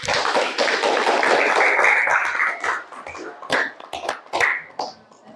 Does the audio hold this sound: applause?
yes